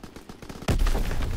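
Gunfire in a first-person shooter video game: a run of faint, rapid shots followed by a sudden, loud, sustained burst of close-range fire.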